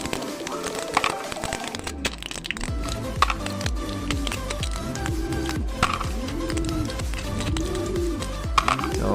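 Pigeons coo with repeated low, rolling calls in a steady rhythm, close and fairly loud over a busy background of rustling and small clicks.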